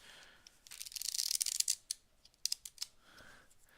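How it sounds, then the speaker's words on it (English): Two packets of playing cards, one face up and one face down, are riffle-shuffled together in a quick crisp burst of fluttering snaps, followed by a few lighter taps and slides of cards settling. "we're going to shuffle them together like this"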